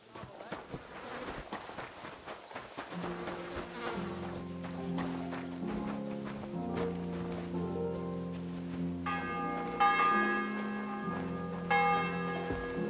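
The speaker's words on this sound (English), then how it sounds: "The bell's ringing for Hans the 5th time." A church bell rings in the video game Kingdom Come Deliverance II. Its repeated, resonant strikes layer into a ringing chord, over a background buzz of insects and some footsteps.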